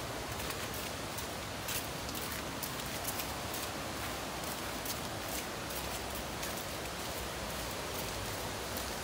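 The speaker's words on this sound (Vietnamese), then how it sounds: "hôm nay mưa nha các bạn, nên rất là trơn nha" Steady rain falls on a slippery path near a rocky stream, a dense, even hiss of drops that stays constant throughout, with no voices.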